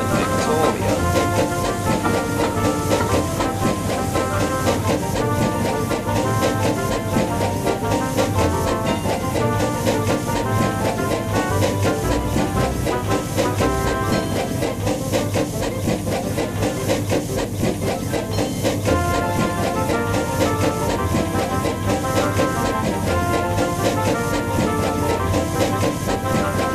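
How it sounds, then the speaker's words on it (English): A steam tram engine puffs down a railway branch line pulling two coaches, making a continuous steady chuffing, hissing and rhythmic clattering that runs without a break. "Toby the tram engine was puffing down the branch line with Henrietta and Victoria."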